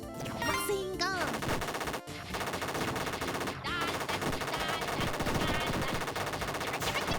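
Rapid machine gun fire from a game, loud and continuous, mixed with dense music and sound effects throughout.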